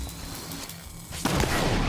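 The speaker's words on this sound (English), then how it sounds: "I have a rocket launcher." A rocket launcher fired in the Halo 5 video game, a loud, dense blast that hits with a sudden jump in level partway through over continuous game noise.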